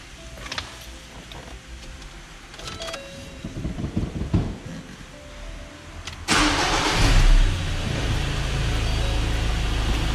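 A Ford Ranger XLT diesel engine, with a remapped tune, cranks and catches with a sudden loud roar, revs up hard and settles into a rough, heavy idle after some shuffling and clunks beforehand.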